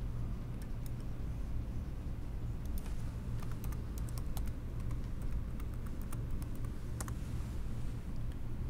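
Quick, light keystrokes on a computer keyboard as a login name and password are entered, a brief uneven burst of clicks over a low steady hum.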